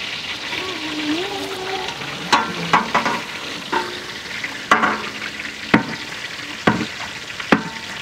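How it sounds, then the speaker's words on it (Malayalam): Food frying lightly in oil in a pan, a steady sizzle with occasional stirring clanks and scrapes spaced a second or so apart, close and fairly loud. "ഒന്ന് ലൈറ്റായിട്ടൊന്ന് പൊരിച്ചെടുക്കണം."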